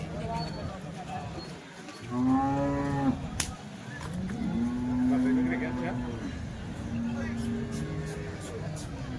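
Cows lowing at an HF and Jersey cattle market in Chalisgaon, several long drawn-out moos from near animals spread across the scene, with people talking in the background.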